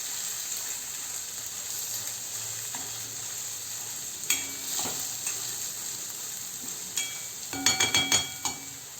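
Green peas and onion paste sauté in a pan over low heat with a steady sizzle throughout, broken by a few sharp clinks and scrapes of a spoon against the pan near the middle and end.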